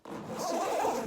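A bowling bag's zipper pulled open in one continuous rasping run, close and clear, lasting about a second with no talking.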